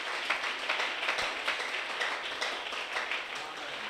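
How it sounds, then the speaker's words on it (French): A church congregation claps and calls out in acclamation, an even bed of clapping with scattered cheers, moderately loud and steady throughout, with no clear speech. "donne un puissant Amen et une acclamation gentille"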